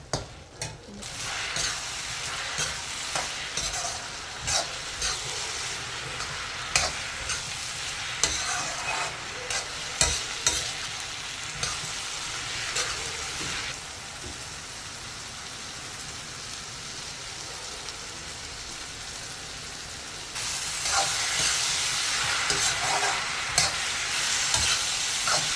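Cabbage and potato curry with tomato and green chilli sizzles and fries over a high flame while being stirred in a pan, a steady crackling hiss with scraping stirs, close and without talk.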